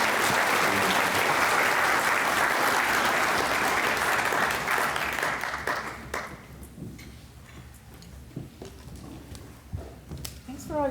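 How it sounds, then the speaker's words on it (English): A dinner crowd at a University of Dubuque commencement dinner breaks into loud, sustained applause for about six seconds before it thins out to scattered claps and voices. "If we could give her a warm round of applause."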